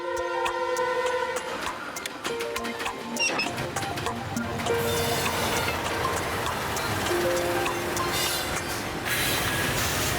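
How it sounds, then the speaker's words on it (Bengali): Cartoon train rolling along rails, a steady rumbling clatter with metallic squeal and clicking wheel noise, loud and continuous without talk. "আর কত লেট করবে এই ট্রেনটা?"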